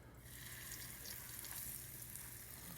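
Fish laid into a hot pan, a steady broadband hiss of sizzling oil that rises sharply at the start and keeps crackling evenly, fairly close, with no one speaking.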